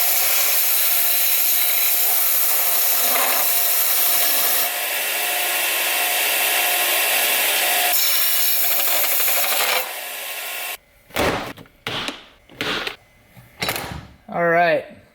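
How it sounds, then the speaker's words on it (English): A belt sander grinds against a crooked metal bung in a workshop for straightening, a steady loud rasp for about ten seconds that then breaks into short bursts as talk takes over. "So what I'll try to do then is use the belt sander to straighten it out."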